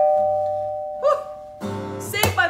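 A bell rings at Fort Myers Beach as a few bright ringing strikes over a low steady hum, with a sharp clear tone near the end.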